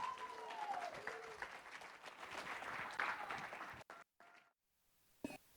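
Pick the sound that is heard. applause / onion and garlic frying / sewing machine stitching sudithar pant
applause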